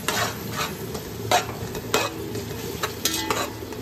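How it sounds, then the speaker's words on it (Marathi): Tomato puree cooks with onions in a little oil in a pan, sizzling softly while a spoon stirs in repeated scraping strokes, close and moderately loud. "पूर्ण प्रॉपर शिजवून घेते टोमॅटो प्युरीला"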